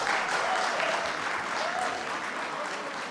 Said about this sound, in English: A round of applause for all the participants and organizers present here.